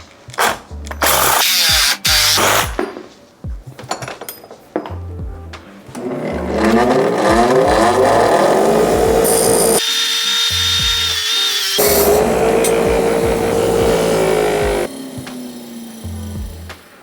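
A power drill bores mounting holes for Planet Bike Cascadia fenders on a handbuilt adventure bike. Loud, close clatter and handling noises come first, then a sustained motor whine that shifts in pitch.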